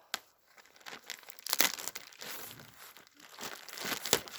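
Plastic packaging holding a 100% virgin wool blanket is torn open by hand, with close, irregular crinkling and ripping in short bursts.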